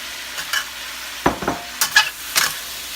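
Cashew chicken stir-fried in a pan until sticky: a handful of scraping stirs with a spatula over a soft sizzle, each stroke close and distinct, with no talking.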